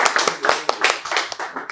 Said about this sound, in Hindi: तो एक बार तालियां हो जाए हमारे विवेक सर के लिए।